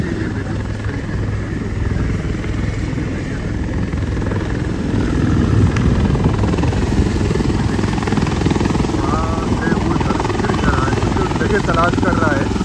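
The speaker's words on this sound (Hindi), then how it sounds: "हैं और लैंड कर चुका है हेलीकॉप्टर" Indian Army helicopter landing during a flood rescue on the Girna river at Malegaon, its steady rotor and engine roar loud and continuous throughout, with people talking and a crowd murmuring underneath.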